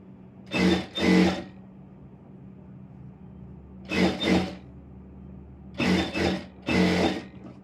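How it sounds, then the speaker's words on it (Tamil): Sewing machine stitching a fall along the edge of an Aari work blouse, running in four short bursts of rapid mechanical whirring, some doubled, separated by quiet pauses. "இப்படி ஓரமாக தையல் போட்டுக்கிறேன்"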